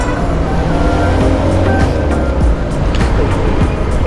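Heavy road traffic surrounds a rider on a congested road, a dense, continuous, loud rumble of engines close by with steady roar and occasional passing swells.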